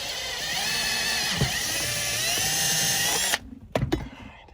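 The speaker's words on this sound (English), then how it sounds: "Now you just drill." A power drill bores mounting holes for a Hill Engineering dead pedal in a Ferrari F430 footwell, a steady close whine lasting about three seconds before stopping, followed by a few short bursts and clicks.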